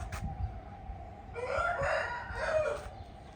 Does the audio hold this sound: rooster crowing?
yes